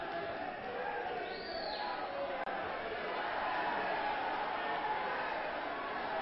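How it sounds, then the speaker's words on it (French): Crowd at a vintage professional wrestling match, a Montreal tag-team bout, cheering and applauding in a dense, steady roar that fills the arena, with a commentator's voice running over it. "Et le public applaudit."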